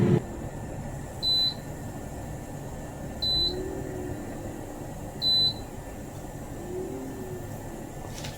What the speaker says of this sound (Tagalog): mag-a-alarm po yung ating uh, air fryer